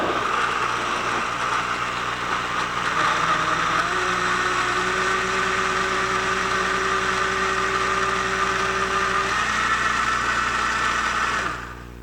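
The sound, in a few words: Vita-Mix TNC blender grinding strawberries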